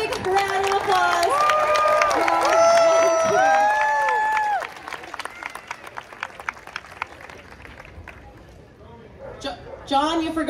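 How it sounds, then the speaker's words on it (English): An audience at the Animal Actors show at Universal Studios Hollywood claps and cheers loudly over whistle-like animal calls, with the applause fading into scattered claps and a voice speaking toward the end. "How about a big round of applause?"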